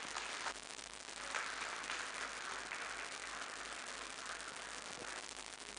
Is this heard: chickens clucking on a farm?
no